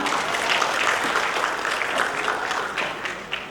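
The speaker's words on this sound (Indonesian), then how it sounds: "Tepuk tangan buat kita semua." Audience applause at a May Day labour event in Makassar, steady dense clapping from a crowd lasting a few seconds, loud and close with no talk over it.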